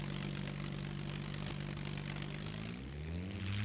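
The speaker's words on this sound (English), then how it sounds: "scroll the mouse wheel forward to get the engine started" Plane engine running in the video game Scum, a steady propeller drone with a low rumble that shifts in pitch as it revs, loud and alone.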